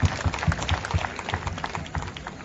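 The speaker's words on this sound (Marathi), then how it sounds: "सर्वांनी टाळ्या वाजवून त्यांचे स्वागत करावे." Audience applause at a Hindu conference in Sangli, welcoming a speaker: steady clapping from a crowd of people, moderately loud and even throughout.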